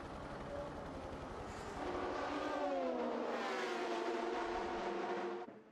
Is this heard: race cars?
yes